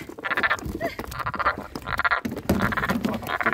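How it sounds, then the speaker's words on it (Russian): Pond frogs, caught the day before and now being released, croak loudly and close by in repeated rhythmic bursts of roughly half a second, with short pauses between calls and no talking. "отпускаем лягушек, которые мы наловили вчера в нашем пруду"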